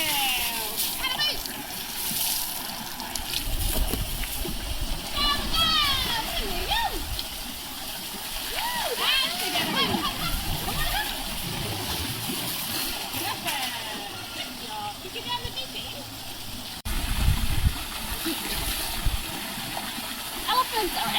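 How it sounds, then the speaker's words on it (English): An Asian elephant splashes in a pool on a hot day, with steady sloshing and spattering water close by and brief louder gushes, while high voices and chatter carry on over the top. "They love getting into the pool, having a bit of a cool off on a hot day."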